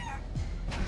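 Short chicken cluck from the video game Guacamelee! 2, a quick fowl squawk amid game sounds, lasting under a second.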